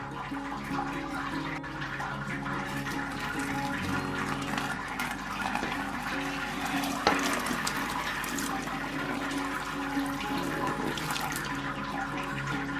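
Hot water at 77°C is poured slowly over grain while sparging homebrewed mango IPA, a steady, soft splashing trickle running continuously at close range without pause.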